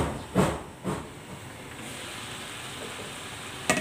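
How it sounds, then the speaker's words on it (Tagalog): Steady hiss of steam rising from a pot of boiling water as an egg and vegetable mixture steams, opening with a couple of soft knocks and ending with a brief clatter. "I-steam natin ito for 20 to 30 minutes"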